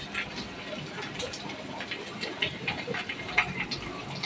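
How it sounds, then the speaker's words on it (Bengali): Onion, garlic, cardamom, clove and potatoes frying in a pan for a fish curry, a steady crackling sizzle like light rain with occasional sharper pops, fairly faint and continuous. "পেঁয়াজ রসুন এলাচ লবঙ্গ আলু ভাজতে দিয়েছি"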